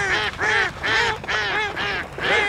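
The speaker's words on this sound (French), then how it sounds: "Laisse les canards tranquilles." Ducks quack in a loud run of harsh, nasal calls, about five bursts in quick succession with short gaps, close by and without talk.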